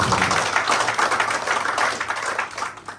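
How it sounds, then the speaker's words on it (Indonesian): Church congregation at a Sunday service clapping hands together for God, a steady wash of many overlapping claps in a large room, sustained and moderately loud. "Boleh tepuk tangan buat Tuhan"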